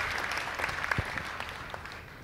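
Audience at an Alabama 6th Congressional District runoff debate clapping, a steady patter of applause from a modest crowd in a hall, moderately loud and alone without talk.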